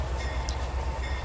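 A locomotive engine rumbles steadily in the train simulator game Trainz 2019, a brief, moderately quiet low drone with faint rail noise above it.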